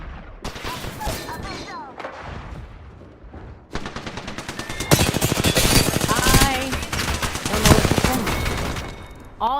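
Rapid gunfire from an Alternator in the Apex Legends battle royale game, dense bursts of automatic shots that swell louder through the second half, with excited voices talking over the shooting.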